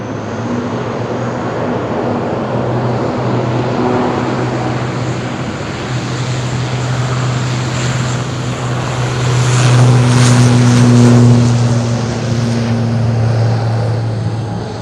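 Airliner taking off at Madeira Island Airport in strong wind, a steady loud engine roar with a low drone that swells toward the end, heard from a distance alongside wind noise.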